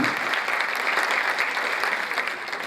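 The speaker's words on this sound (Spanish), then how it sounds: "con un caluroso aplauso, le damos la bienvenida a la licenciada Silvia Satulovsky" Warm audience applause welcoming a speaker at a conference, a dense, steady burst of many hands clapping at close range, sustained evenly throughout.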